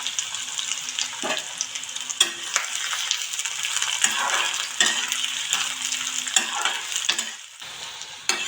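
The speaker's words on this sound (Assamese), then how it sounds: "এতিয়া মই এইখিনি ধুনীয়াকৈ ভাজি ল'ম অকণমান।" Chopped onions and green chillies fry in hot mustard oil in a wok, a steady close sizzle with periodic louder stirring scrapes throughout, no voices.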